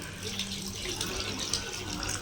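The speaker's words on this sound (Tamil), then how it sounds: "அந்த புளி தண்ணி எடுத்து நம்ம குழம்புல ஊற்றிக்கலாம்" Tamarind water poured from a container into a simmering sardine fish curry, a steady splashing trickle of liquid running close and fairly loud for a couple of seconds, no talking over it.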